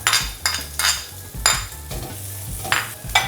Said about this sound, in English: Saute until fragrant.